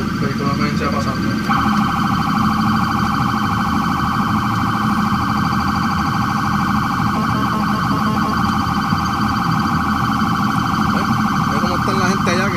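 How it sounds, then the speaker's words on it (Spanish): An ambulance siren wails continuously at close range on a street as the emergency vehicle passes, its steady tone shifting partway through, loud over traffic noise. "Vehículo de emergencia pasando."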